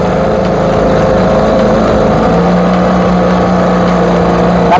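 A Mercury 3.3 HP outboard motor drones steadily on a boat heading upstream against the current, the loud continuous buzz rising slightly in pitch partway through as the throttle is opened.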